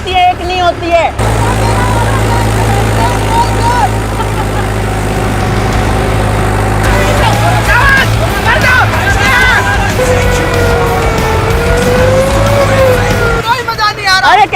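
A tractor engine revs loudly and continuously up close, its heavy low drone rising and holding, while people talk and shout over it throughout.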